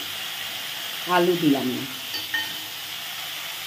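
Okra, pointed gourd, papaya and plantain sizzle as they fry in a pan, a brief burst of hissing and stirring near the middle, with someone speaking briefly over it.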